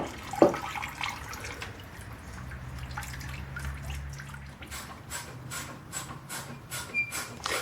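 Leftover coolant from a 1999 Toyota 4Runner radiator hose drips and trickles steadily after the bottom clamp comes off, a quiet, irregular patter of drops with no talking.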